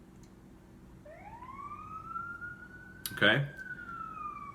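A distant emergency vehicle siren wails outside with a long rising and falling tone. A brief loud clatter comes nearby partway through, and a voice speaks once.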